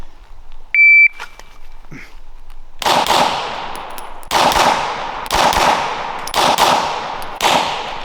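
Shots at a shooting range crack out loud and close, about five sharp reports in an uneven sequence with ringing tails. Before them come a faint high beep and some quiet handling noise.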